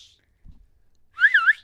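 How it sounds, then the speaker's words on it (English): After a soft thump, a person whistles a short warbling phrase with a few wavering notes, clear and close. "He excels in whistling."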